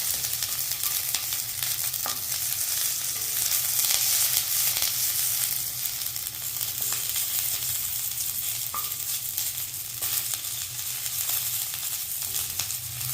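A handful of curry leaves sautéing in a pan for chutney, giving a continuous crackling sizzle with light occasional stirring scrapes, close up and without voices.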